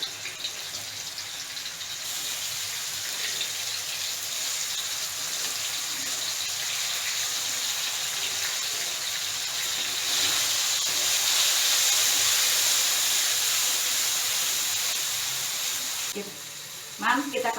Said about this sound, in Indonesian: kita tumis bumbunya.